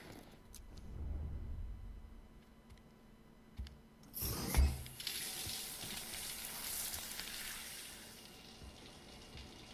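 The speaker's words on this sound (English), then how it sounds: "that's the shower. Duh. Take a shower." Running shower water in the video game Death Stranding starts abruptly partway through, a steady close hiss after a quiet stretch that holds low rumbling.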